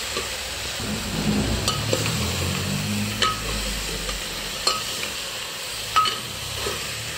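Cut taro pieces and greens dropped into a hot pan, giving a steady soft sizzle with a few sharp clicks and scraping stirs, close and fairly quiet, with no talking.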